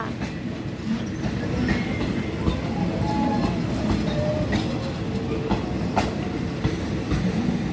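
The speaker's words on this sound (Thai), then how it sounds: "เป็นรถจัดเฉพาะค่ะ" An ALSTHOM 4143 diesel locomotive with a CAT engine hauls a special train into Hua Lamphong station, giving a loud steady rumble with clicking wheels and faint squeals over the rails.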